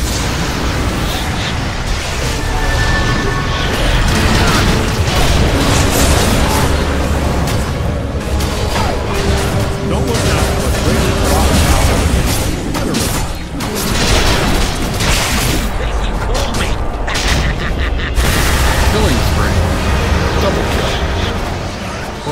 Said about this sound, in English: Radiant's bottom tower is getting obliterated